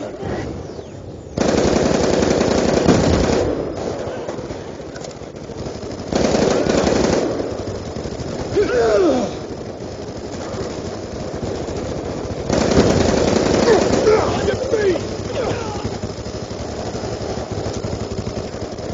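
Light machine gun firing in a multiplayer video game, long loud bursts of rapid automatic fire that start and stop repeatedly, with sustained rattling stretches between pauses.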